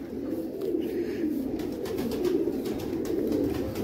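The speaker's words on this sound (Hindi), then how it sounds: "ये कबूतर है।" A pigeon coos in low, soft, repeated murmurs that roll on throughout, close by under light background noise.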